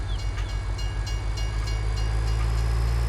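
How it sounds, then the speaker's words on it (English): A train rumbles past in Farming Simulator 19, a steady loud low roar with rhythmic wheel clatter on the rails and no talking. "The train is well on its way."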